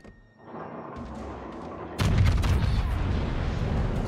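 Battleship main guns fire in World of Warships, a low rolling rumble that swells into a heavy, sustained boom and roar of naval artillery, loud and continuous with no voices over it.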